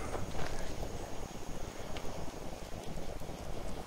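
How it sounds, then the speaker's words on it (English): Steady rain falls continuously in a video game, a dense even hiss of drops with a faint clip-clop of hooves underneath, heard alone without talk. "it's raining"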